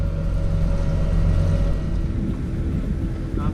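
A large, rugged outboard motorboat cruises along the Rio Dulce jungle river in Guatemala, a steady low engine drone mixed with heavy wind rush and water noise, loud and close throughout.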